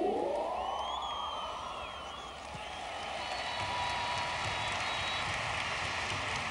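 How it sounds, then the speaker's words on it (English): A football stadium crowd at Atletico Madrid versus Celtic in the Cup Winners' Cup roars and whistles in a sustained wash of distant noise, swelling again after a brief dip. "The reaction in the crowd is the acknowledgement to the scoreboard indicating that Barcelona have won their European match."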